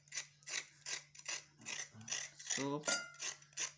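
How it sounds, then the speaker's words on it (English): Carrots being scraped, a steady series of about ten rhythmic rasping strokes, close and fairly faint, with a brief spoken word partway through. "Make sure you scrape out all the back so that the inner"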